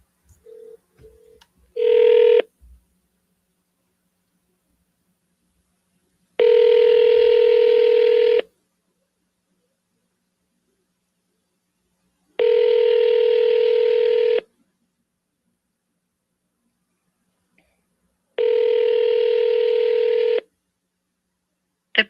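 Touch-tone telephone dialing: a short run of quick keypad beeps, then three long steady two-tone signals spaced several seconds apart with silence between, clear and close.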